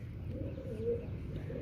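A Lalband pigeon, a large adult bird, coos softly and low, its murmuring call steady through a short stretch with one slightly stronger swell near the middle, close by and alone with no voices.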